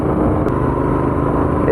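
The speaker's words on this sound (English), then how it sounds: "It's not the biggest engine, but it's powerful enough." A Royal Enfield Continental GT 650 motorcycle engine runs steadily during a ride, a loud continuous rumble with a close, even drone and no talking over it.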